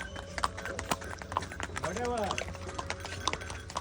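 Rhythmic clip-clop of horse hooves on a hard surface, steady and nearby, with a person talking over the hoofbeats.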